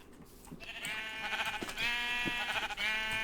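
A Minecraft sheep lets out a couple of drawn-out, wavering bleats, clear and fairly close, over a quiet game backdrop.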